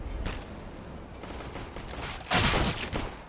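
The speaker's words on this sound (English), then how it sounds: "here's Shroud claiming a couple more for himself on this pistol round" Pistol fire in the video game CS:GO during a competitive pistol round, a few scattered shots with one louder burst near the end over faint background game noise.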